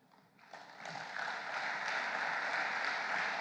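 Audience applause at the opening session of a French business conference, clapping that builds from quiet to a steady, full wash of hands from a sizeable crowd.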